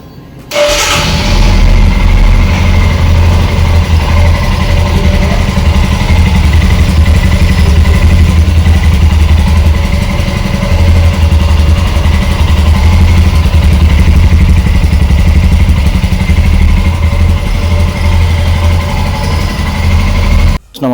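A Royal Enfield motorcycle engine starts up and settles into a loud, steady, thumping idle that runs on close by for a long stretch.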